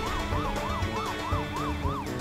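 Ambulance siren wailing in a fast, repeating up-down sweep in Poly Bridge 2, loud and steady over a low rumbling vehicle engine, with no talking.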